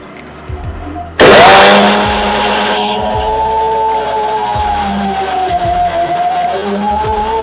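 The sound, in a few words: mixer grinder grinding batter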